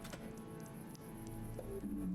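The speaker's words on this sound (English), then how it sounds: "Carl, it's raining from the ceiling." In the Fall of Porcupine video game, water drips from the ceiling as a faint, steady patter of small taps over a low, quiet background hum.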